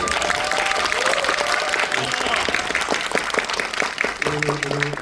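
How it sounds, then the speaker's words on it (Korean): An audience applauds at a film screening event at a cinema, producing a steady wash of many hands clapping, with a voice speaking over it toward the end. "마지막으로 한 번만 더 박수 부탁드립니다"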